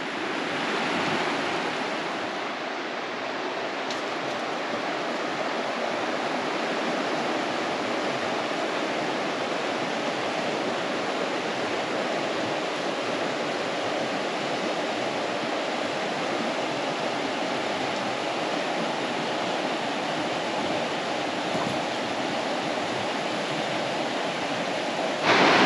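A river current in Arizona rushes down along the edge of an undercut rock, making a steady, dense wash of flowing water that stays constant and fairly close throughout, with no voices.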